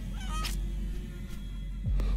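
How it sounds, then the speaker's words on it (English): A cartoon goose honks a few times in short nasal bursts over a steady low hum, fairly close and clear. "Was that a goose?"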